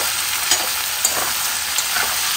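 Turmeric and grated ginger frying in hot oil, a loud continuous bright sizzle with a few soft stirring scrapes.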